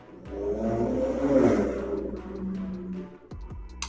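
A car speeds past on a street outside, a loud, swelling engine rush that builds and fades over a few seconds, heard alone without talk.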